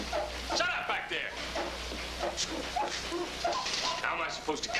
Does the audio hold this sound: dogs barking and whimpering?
yes